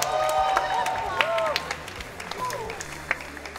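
Crowd applause for an award winner at an anime convention Christmas ceremony, brief clapping and cheering under a speaking voice, tapering off within a few seconds.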